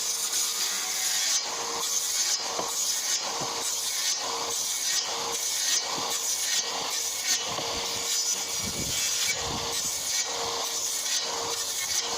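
A power saw cuts through pressure-treated softwood timber for a pergola build, a loud rasping, buzzing cut with a rhythmic pulsing as the blade works along the wood, heard close up.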